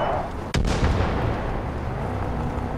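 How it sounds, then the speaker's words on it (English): A video game explosion in Far Cry 5: one sharp, loud blast bursts out, then a rumbling roar lingers and fades under steady game noise. "Okay, somebody blew up and that wasn't me"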